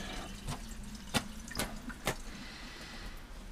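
Running tap water rinsing mushrooms at a kitchen sink for beef stew, a steady faint splash with a few sharp clicks and knocks as the mushrooms are handled, no voices.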